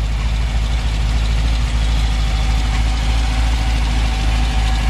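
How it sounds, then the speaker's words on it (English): The V8 engine of an MGB GT V8 coupe idles steadily up close, a deep, even burble with a rumbling low end and no revving or voices. "The idle sounds so good."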